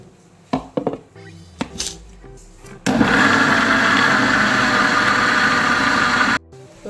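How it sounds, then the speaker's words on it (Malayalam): Electric hand beater whipping cake batter of milk and butter for a banana sponge cake, a loud steady motor whir starting abruptly after a few clinks and knocks of the bowl, then cutting off. "ഒരു പീസ് ബട്ടർ ചേർത്ത് നന്നായിട്ട് ബീറ്റ് ചെയ്യാം"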